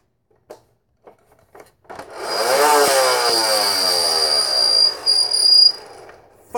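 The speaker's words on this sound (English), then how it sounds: "Fun little sound, those old flywheel cages." An old flywheel cage spins up after a few faint taps and clicks into a sustained whirring hum with a rising and falling pulsing texture. It stays fairly loud and close and then cuts off, with no talk.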